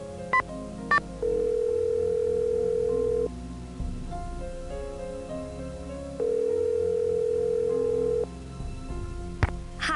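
Telephone sounds in a Nancy Drew mystery game: quick keypad dialing beeps, then two long, steady electronic ring tones separated by a pause, heard clearly over a quiet background.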